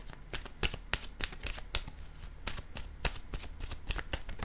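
Tarot cards are shuffled by hand close up, producing a run of quick, crisp riffling snaps and papery flutters in an irregular rhythm, with no talk over them.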